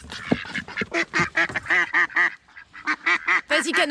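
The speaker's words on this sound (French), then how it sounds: "Et maintenant, les gros canards" Several ducks quack rapidly and loudly close by, a busy chorus of overlapping calls with brief pauses.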